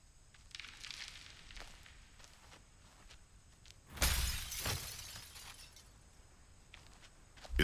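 A breakaway sugar-glass window shatters as someone jumps through it in a Texas Chain Saw Massacre scene: a sudden loud crash with scattering fragments, preceded by faint rustling and footstep-like ticks, ending with another sharp hit.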